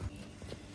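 A horse's hooves thud a few times on the ground of an outdoor arena, soft and muffled against a low background.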